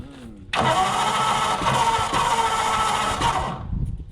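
Ford Flathead V8-60 powered hot rod engine starting after sitting for years: a brief crank, then a sudden loud catch into a rough, rumbling run lasting about three seconds before fading down.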